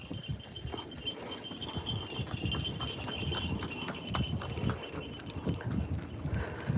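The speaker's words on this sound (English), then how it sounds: "So you find a lot of these horse and carriages outside the big resorts" Hooves clip-clop steadily on pavement as a horse-drawn carriage passes outside a resort on Gili Trawangan, with outdoor street noise and distant murmuring throughout.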